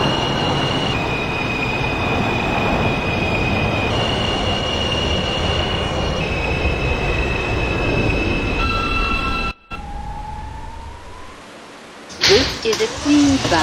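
An R160 Alstom subway train on a Queens-bound R local in the OpenBVE simulator, with a steady rumble of running and high whining tones, then a brief cut and squealing wheels near the end; an announcer speaks over part of it.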